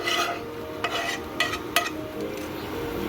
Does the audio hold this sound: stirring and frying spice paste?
yes